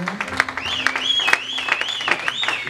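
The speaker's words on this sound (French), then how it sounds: "Tu es en train d'acclamer et tu manifestes un peu de la joie." A church congregation claps and cheers during a worship service, with rhythmic applause and joyful whoops and whistles layered together, close and lively.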